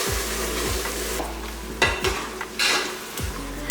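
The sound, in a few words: ground masala paste poured into hot pan, sizzling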